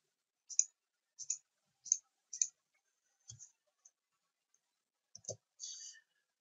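A computer mouse clicks repeatedly while structural modeling software is used for a bridge pier footing: four crisp, close clicks at a steady pace, then a few more scattered and fainter, with brief quiet gaps between.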